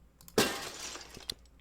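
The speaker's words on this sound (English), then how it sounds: "The brick going through the glass noise." A brick crashing through a glass pane in the video game Herman Electro gives one sharp shattering burst, followed by a short tinkle of falling shards and a small clink.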